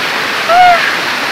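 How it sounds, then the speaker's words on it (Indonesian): A waterfall near Chiang Mai, Thailand, gives a steady, close, broadband rush of falling water throughout, with a short tonal vocal sound rising briefly over it midway. "air terjun, air mancur, waterfall seperti yang bisa kalian lihat di belakang saya"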